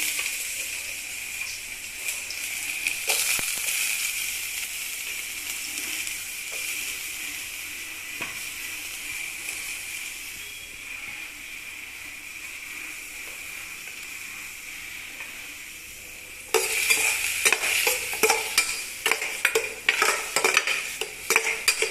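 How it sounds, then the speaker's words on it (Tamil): Onion frying with mustard seeds on a mild flame, a steady hissing sizzle throughout, then in the last few seconds loud repeated metal scraping and clanking as a spoon stirs the pan. "மைல்டு ஃப்ளேமில் வச்சு நல்லா ஃப்ரை பண்ணிக்கலாம்."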